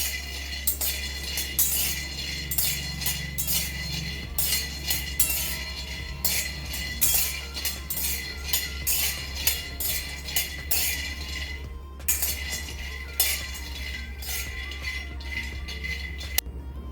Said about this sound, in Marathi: मंद आचेवरती हे शेंगदाणे आपल्याला खरपूस असे भाजून घ्यायचे आहेत